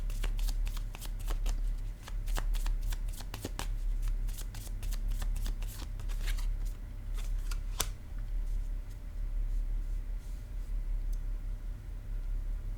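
Playing cards shuffled and handled at a tarot-style reading, a run of quick soft riffles and snaps, then quieter sliding and placing of cards, close and alone over a low hum.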